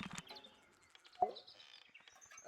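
Faint chirps and tweets from three brightly colored birds in a heavy ornate cage in the puzzle game Tangle Tower, a few short calls with one sharper chirp in the middle, alone without talk.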